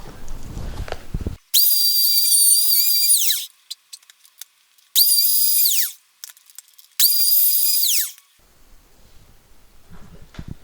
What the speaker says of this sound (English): I'm just going to take the router to it and clean that up.